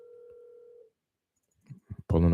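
Telephone call being placed, a steady ringback tone that stops abruptly, followed by a short pause, a few clicks and a person starting to speak.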